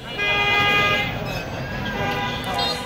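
Vehicle horns toot and honk repeatedly through dense city traffic at a busy Rajshahi intersection near a rail gate, close and loud over a steady roar of engines and street noise, with voices mixed in.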